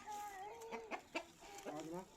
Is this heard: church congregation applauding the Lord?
no